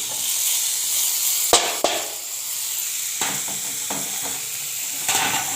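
Leafy greens (saag) stir-fry in a very hot pan with steady, close sizzling and a few sharp metallic knocks and scrapes from stirring, with no speech.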